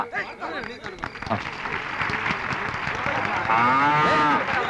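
Cows moo at a cow-distribution event in a Malayalam film scene, with a long, loud low moo near the end following a stretch of people talking and crowd murmur.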